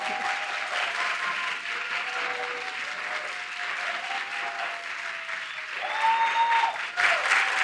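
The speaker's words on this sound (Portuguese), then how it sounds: "a gente está aqui com uma plateia muito animada" Lively live podcast audience clapping in a continuous, full wash of applause, swelling louder near the end with a few whoops and cheers rising above the crowd.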